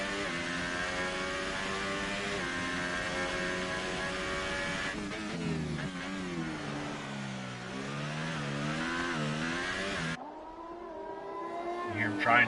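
A Formula-style race car in a sim racing game at the Chinese Grand Prix on ultra-soft tyres, its loud high-pitched engine revving continuously through gear changes and throttle lifts, then cutting to a quieter engine note near the end.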